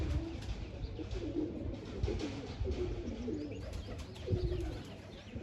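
Many pigeons coo in overlapping, steady low murmurs at a loft while birds are caged into a trap net, with faint chirps and rustling throughout and no talk.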